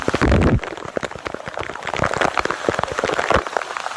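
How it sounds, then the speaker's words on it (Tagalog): Steady rain patters down across the whole stretch, with dense droplet hits on surfaces and a louder splashy burst near the start. "Laging umuulan."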